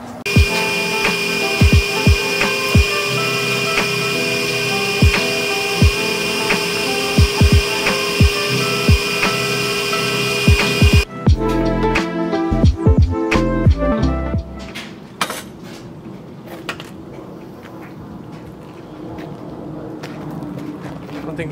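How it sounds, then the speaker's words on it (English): A vacuum cleaner hums steadily as it sucks pine needles and dry leaves out of the interior of a Mercedes CLK55 AMG, with knocks and bumps of the nozzle, then the motor stops and quieter handling noises follow. "So step number one, vacuum it out."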